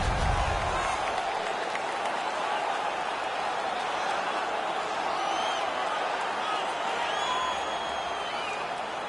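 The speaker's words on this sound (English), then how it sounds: "The home team has won this fight. The crowd is now engaged again." An arena crowd in the NHL 17 hockey video game roars and applauds steadily after a fight won by the home team, a dense wash of cheering that never lets up.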